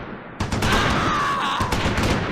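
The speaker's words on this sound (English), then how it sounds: "Bayer's rifle squad opens up on the German infantry from the flank" Rapid crackling rifle fire from a WWII rifle squad opening up on German infantry from the flank during the Battle of the Bulge at Houffalize, a dense, steady volley of overlapping shots with no voices.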